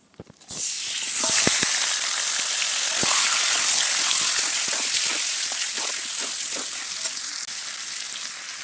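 Meat hits hot oil and erupts into a loud, close, continuous sizzle with dense crackling and spitting that holds steady for several seconds, with no talk over it.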